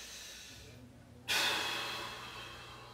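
A single forceful exhale during a mobility workout, a sudden close breath that starts abruptly and then tapers off slowly over a low steady hum, with no talking.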